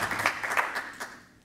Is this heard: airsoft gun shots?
no